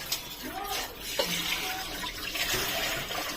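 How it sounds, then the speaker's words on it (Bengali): Tap water running over a mixer grinder jar as it is rinsed in a sink, a soft steady splashing stream with a voice speaking over it. "মিক্সিটা একটু ধুয়ে নিই।"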